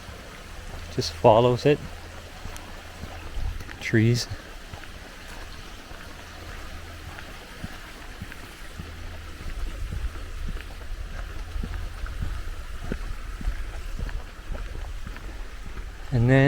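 Water of a creek flows steadily beside a woodland walking path, a soft continuous rush with wind in the microphone, while a person speaks briefly early on.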